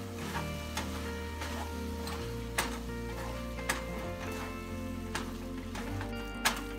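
A spatula stirs paneer bhurji with dry spices in a pan, making soft, regular clinks and taps against the metal over a low sizzle. It is quiet and close, with no talking.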